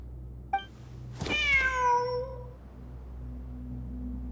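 A single drawn-out cat meow in the video game Genshin Impact, rising then falling in pitch, clear and close over a low ambient game hum with a soft chime before and after.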